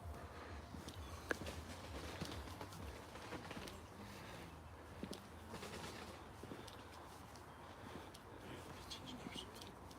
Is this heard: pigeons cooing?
yes